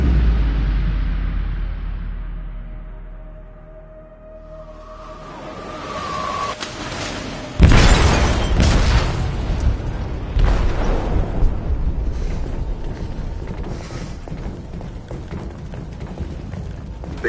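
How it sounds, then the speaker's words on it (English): An explosive detonates in a ship's hold in Detroit: Become Human: a sudden heavy boom hits after a quieter stretch, followed by sustained loud rumbling, crashing debris and roaring noise that carries on to the end. "They detonated an explosive in the hold."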